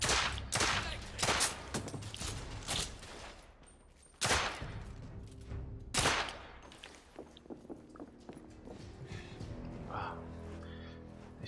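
Pistol shots in the video game The Order 1886, a string of sharp loud bangs spaced irregularly over the first half, then fading into quieter scattered sounds and background noise.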